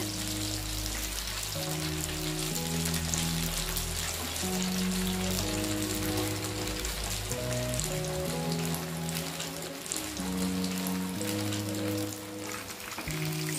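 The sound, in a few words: green chicken 65 frying in oil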